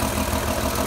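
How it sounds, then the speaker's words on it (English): A Chrysler flathead engine idles up close with the valve cover open, a dense, even mechanical clatter and low hum filling the short stretch without pause. "we go into the engine here while it's running"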